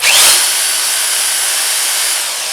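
A hammer drill whirs steadily at close range, a bright high-pitched motor whine that spins up quickly and holds for a couple of seconds.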